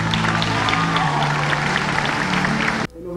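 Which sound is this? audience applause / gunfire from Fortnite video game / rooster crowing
audience applause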